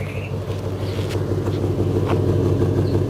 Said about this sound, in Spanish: se siente una falla de cilindro